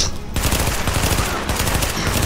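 Rapid bursts of automatic gunfire in the video game Tom Clancy's The Division crackle densely and loudly over a couple of seconds, nearly continuous with only a brief gap near the start.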